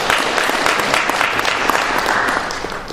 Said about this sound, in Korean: 다시 한번 박수 한번 부탁드리겠습니다